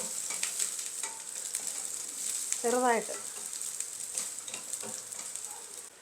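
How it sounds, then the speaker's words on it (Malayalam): Chopped green chilies sizzle steadily in hot coconut oil, a continuous crackling fry close by, with a brief spoken word in the middle. "നമുക്ക് ഇച്ചിരി വെളിച്ചെണ്ണ ഒഴിക്കാം അതിലേക്ക് പച്ചമുളക് ചെറുതായിട്ട് അരിഞ്ഞത് പച്ചമുളക് ഒന്ന് റോസ്റ്റ് ആയിക്കോട്ടെ"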